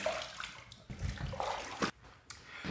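Water running from a tap in uneven gushes and splashes as a lathered shaving brush is rinsed, close and moderately loud, with short breaks between bursts.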